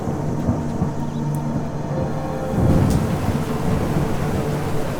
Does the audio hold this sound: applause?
no